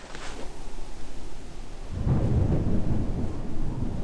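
Thunder rumbles in a video game, a faint crack at first, then a heavy low roll building from the midpoint as rain hisses steadily beneath it, with no voices.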